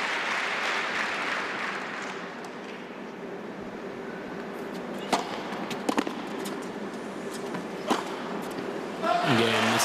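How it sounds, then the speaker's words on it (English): Crowd applause at a 2005 Antwerp women's tennis semifinal, a steady broad wash of clapping with a few sharper claps standing out, fairly distant and moderate in level, swelling again at the end. "listen to the applause"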